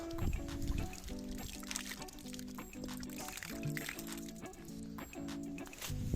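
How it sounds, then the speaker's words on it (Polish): Water glugging as it is poured out of a bottle in a forest, a close, rhythmic gurgling pour with repeated bubbling pulses that runs steadily to the end. "Wodę trzeba wylać."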